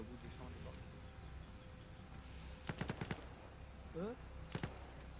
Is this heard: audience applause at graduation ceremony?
no